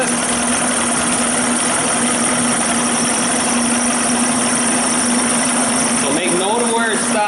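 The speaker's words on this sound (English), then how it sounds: "you hear motor starting to slow down there" A small engine runs loudly and continuously while its carburetor is adjusted. The steady droning hum holds for several seconds, then its pitch wavers and shifts near the end.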